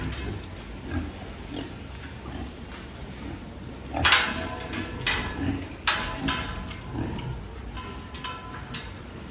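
Pigs at a fattening farm snort and shuffle while they feed on grower ration, with scattered oinks and knocks from the feeder over a steady low barn murmur; louder bursts come near the middle.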